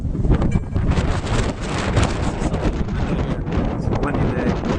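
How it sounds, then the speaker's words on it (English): Strong gusts buffet the microphone outdoors on a windy day beside an old building slated for demolition, a loud continuous low rumble with rustling and no clear talk. "It's a windy day."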